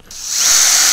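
A power drill whirs up to speed driving into pallet wood, a brief, close, high-pitched motor whine rising sharply and holding steady.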